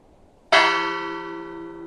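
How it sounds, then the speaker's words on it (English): A large lighthouse fog bell, struck by a machine, rings once with a sharp strike and a long, ringing tone that slowly decays. "the whole purpose of the lighthouse there was the fog bell"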